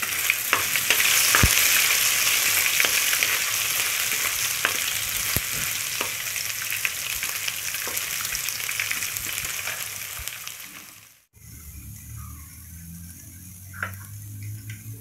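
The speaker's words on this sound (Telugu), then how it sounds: "అల్లం వెల్లుల్లి పేస్ట్ ఆయిల్లో వేసేస్తున్నాను బాగా ఫ్రై చేసుకోవాలి" Ginger garlic paste fries in hot oil with a dense, steady crackling sizzle and occasional stirring clicks, then the sound drops away briefly before a quieter sizzle resumes.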